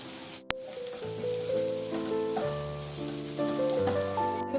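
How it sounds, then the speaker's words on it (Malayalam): Sliced onions sauté in a pan for a Kerala-style prawns masala, giving a steady, even sizzle. Melodic background music plays over it throughout. "ഇനി ഇത് നന്നായിട്ട് അങ്ങോട്ട് വഴറ്റിയെടുക്കാം"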